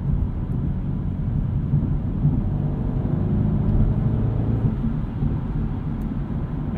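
A 2022 BMW 230i Coupe on the move, a steady low engine and road drone heard from inside the car, muffled and constant with no distinct revs; no talking.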